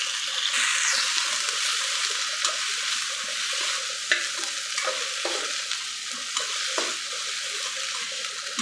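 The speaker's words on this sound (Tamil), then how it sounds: "வெண்டைக்காயை சேர்த்துட்டு நல்லா வறுத்துக்கலாம் ஃப்ரெண்ட்ஸ்." Okra frying with popped mustard seeds, stirred in a pan: a steady, close, hissing sizzle with brief scraping accents from the stirring, no voices.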